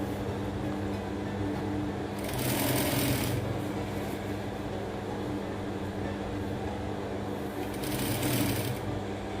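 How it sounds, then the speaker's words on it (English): A sewing machine hems fabric with a continuous close mechanical hum, swelling twice in brief louder bursts of stitching over the steady drone. "but let's hem the fabric first"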